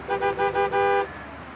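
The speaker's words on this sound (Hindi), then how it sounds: "तुम मुझे राइट लेन से भी हॉर्न दे रहे हो।" A car horn blares in Istanbul street traffic: four quick honks followed by one longer blast, loud and close, with no talk over it.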